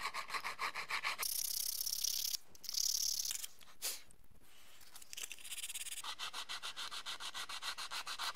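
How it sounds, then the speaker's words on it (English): Hand sanding of filler on a vintage 60-year-old French Moulinette food mincer, with steady back-and-forth rasping strokes near and fairly quiet, pausing briefly midway before resuming a regular rhythm. "I can now sand the filler down and paint this one also."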